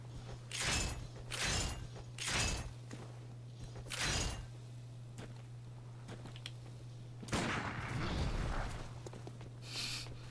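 Gunshots fired in the video game Bloodborne near a dog enemy in a courtyard: several sharp, loud blasts spaced about a second apart, then a longer rumbling burst and one more shot, over a steady low electrical hum.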